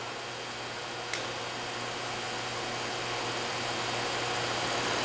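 An Amada M-3060 sheet metal shear, 1/4 inch by 10 foot with a front-operated back gauge and square arm, runs with a steady low mechanical hum and a single brief click early on, without any speech.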